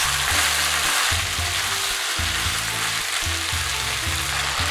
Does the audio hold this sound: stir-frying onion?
yes